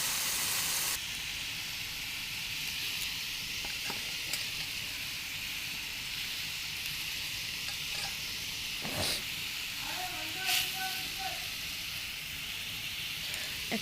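Cauliflower and potato curry sizzles steadily in a pan with a constant frying hiss, with occasional soft stirring clinks and scrapes heard up close.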